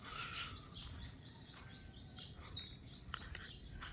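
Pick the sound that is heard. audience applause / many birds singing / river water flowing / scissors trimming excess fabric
many birds singing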